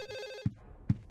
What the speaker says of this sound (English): Where is this phone ringing?